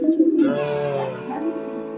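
A caged checkered pigeon gives a soft, close cooing call, a low throaty rolling coo that swells and then trails off over a couple of seconds.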